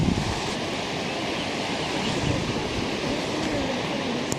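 Ocean waves at Broken Beach in Bali wash in a continuous, steady roar mixed with wind buffeting the microphone, with no clear voices.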